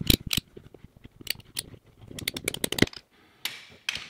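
A PEX pipe being cut to length with a square, parallel cut for a SharkBite fitting while replacing a cracked hose bib: a run of crisp snipping and crunching cuts, close and moderately loud, with brief pauses and no talk.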